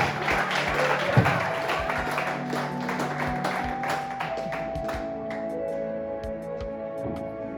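A church congregation applauds during a sermon, a full round of clapping that thins and tapers off toward the end while voices carry underneath.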